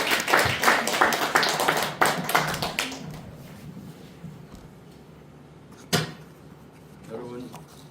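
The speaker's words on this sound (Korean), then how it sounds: "큰 박수 부탁합니다." An audience at a literary hall applauds to welcome a poet, with a brisk burst of close hand claps over the first three seconds that fades out, followed by quiet room noise and a single sharp knock.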